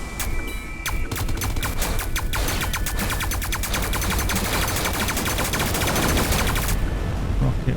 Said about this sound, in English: That Gauss gun just rips through things